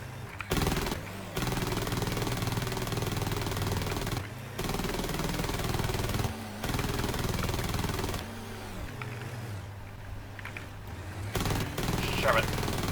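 Video game gunfire in Silica, bursts of rapid shots over a rumbling engine-like drone, broken by short pauses, with a voice talking now and then.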